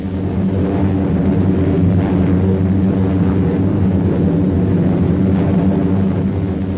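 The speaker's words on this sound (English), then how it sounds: "U.S. planes operating in the Central Pacific flew a series of raids on Japanese positions" U.S. military planes over the Central Pacific in 1943 wartime footage, a loud, steady engine drone that stays level throughout with no talking.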